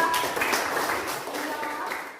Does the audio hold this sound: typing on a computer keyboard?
no